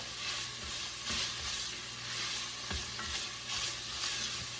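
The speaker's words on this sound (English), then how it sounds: "I'm going to put in close to 4 cups of the broth" Chicken broth goes into a hot pot of white chicken bean chili, a continuous sizzling, bubbling hiss with faint stirring knocks throughout.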